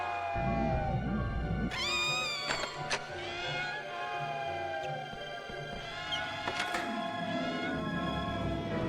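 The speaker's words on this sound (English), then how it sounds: "the pixies always reminded me of, like, a crying cat. The sounds that they make." Pixies in a Harry Potter Chamber of Secrets video game wail like crying cats, several loud, high, wavering meows and shrieks overlapping with game effects.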